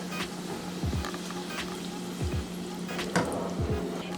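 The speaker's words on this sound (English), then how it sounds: "now I'm gonna pour about half a cup of milk into the butter" About half a cup of milk poured into melted butter in a saucepan for macaroni and cheese: a close, soft liquid splashing and dribbling with a few low drips over a steady room hum.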